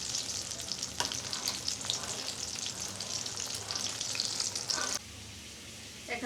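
Oil with four dried chillies sizzling for a tempering of mas kalai dal, a bright crackling fry with stirring clicks that stays loud and close, then drops to a quieter hiss near the end.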